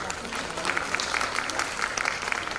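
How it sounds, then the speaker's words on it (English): An audience at a botanical society's annual conference and international symposium claps in a sustained round of applause, dense and even, filling the hall for a couple of seconds. "I think we can have a good round of applause,"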